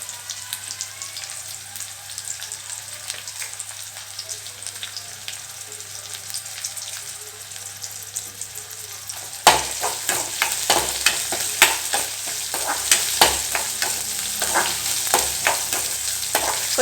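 Onions sautéing in a pan with curry leaves, sizzling steadily at first, then louder and brighter from about nine seconds with repeated scraping stirs over the frying hiss.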